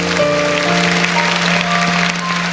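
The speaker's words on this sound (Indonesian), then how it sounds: "Berikan tepuk tangan untuk Tuhan." A church congregation claps steadily over a sustained organ or keyboard chord at a worship service, the applause close and continuous throughout.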